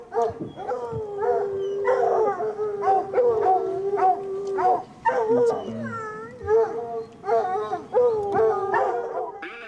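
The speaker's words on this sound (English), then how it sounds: "our truck exploded with the sounds of the hounds" Bear-hunting hounds bay and howl from a truck on back roads, several dogs letting out loud, drawn-out howls and sharp yips in an overlapping, excited chorus that keeps going.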